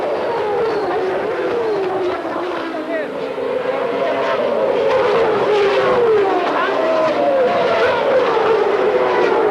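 Formula One cars at the start of a 1994 race, with Schumacher, Hakkinen and Senna getting away: a continuous whining engine roar with rising and falling pitch sweeps, heard under steady commentary.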